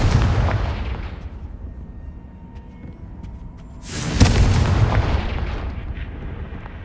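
Confringo fire spell blasting in Hogwarts Legacy on PS5, a loud booming explosion that bursts in sharply after a quieter stretch of low rumble and rings out with a long rumbling tail.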